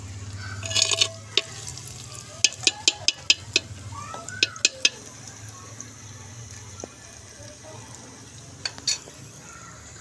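Onions sizzle softly in a pan while masala is stirred, with sharp metallic clinks from a spoon scraping the pan over a low background hum.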